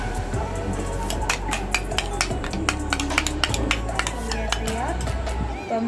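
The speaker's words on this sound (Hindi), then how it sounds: "तो ये अच्छे से कर लेते हैं मिक्स इसको।" Homemade face mask being mixed in a bowl, a steady run of close, rhythmic scraping and clinking strokes, with a voice speaking partly over it.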